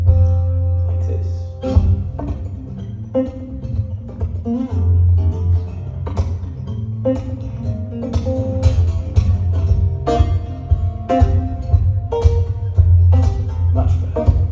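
A bass guitar plays a busy line of plucked notes close and prominent, with a deep low end and bright string attacks in an irregular rhythm throughout.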